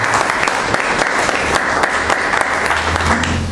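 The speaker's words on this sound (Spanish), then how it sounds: "Démosle ese fuerte aplauso de bienvenida" Loud, sustained congregational applause of welcome at a church service, dense steady clapping filling the room throughout with no one talking.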